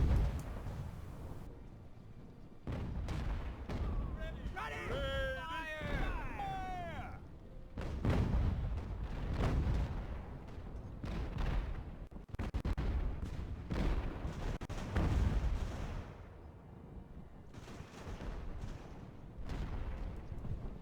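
Mortar artillery in the naval battle game Ultimate Admiral: Age of Sail fires repeatedly, deep booming blasts and rumbling impacts spread across the stretch, with someone talking over the gunfire.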